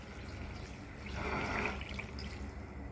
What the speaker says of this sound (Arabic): فوق ده كله هنزود شويه ميه.